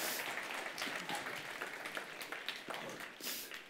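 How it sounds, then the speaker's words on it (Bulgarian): Applause from an audience at a live talk event about memory and the brain, a steady wash of many hands clapping at moderate distance, fairly faint, with no speech over it. "моля за вашите аплодисменти"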